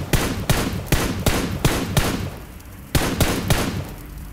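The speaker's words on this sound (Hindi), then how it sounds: "मेरे से फायरिंग हो रही है मतलब" Gunfire in a battle royale video game sounds as a series of sharp, loud single shots spaced about half a second apart, with a brief pause midway before more shots follow.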